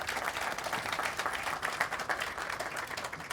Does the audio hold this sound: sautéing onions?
no